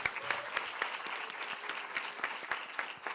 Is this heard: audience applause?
yes